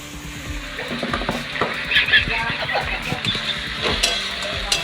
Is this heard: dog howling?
no